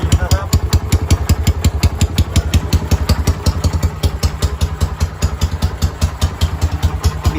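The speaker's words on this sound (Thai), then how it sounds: "ขนาดไม่ได้ขับนะเนี่ยขนาดจอดสตาร์ทเฉย ๆตึง ๆ" A Honda Sonic 125 motorcycle with a tuned engine idles while parked, a loud, close, lumpy thumping beat pulsing steadily throughout without any talk.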